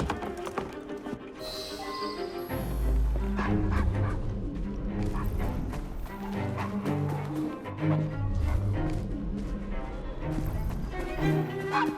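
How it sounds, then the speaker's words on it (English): In the Assassin's Creed Syndicate video game, a dog barks and yips repeatedly among horse hooves clip-clopping and street bustle, the barks coming in irregular bursts at moderate distance. "Shut up, dog!"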